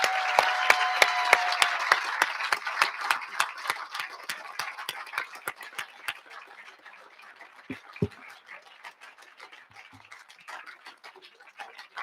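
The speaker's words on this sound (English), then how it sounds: "Please join me, everyone, in a final round of applause for our speakers and award recipients." An audience at a school baccalaureate ceremony claps for speakers and award recipients, loud dense applause thinning out into scattered individual claps.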